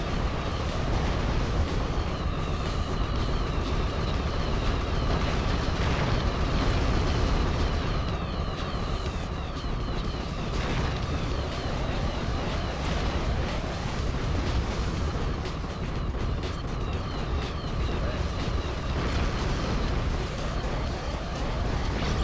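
Rapid-fire power shots from the i-Ninja video game, a dense, continuous barrage of rough, noisy blasts that keeps a steady high level for the whole stretch, with no pauses.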